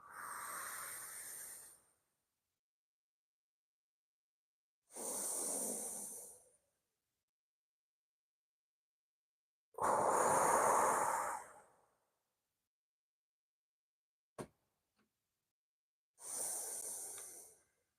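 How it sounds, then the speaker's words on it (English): Slow deep breaths during a qigong cleansing exercise, several long airy inhales and exhales separated by silent pauses, close and soft. "Breathing in, breathing in, breathing in. Hold a little bit and exhale down."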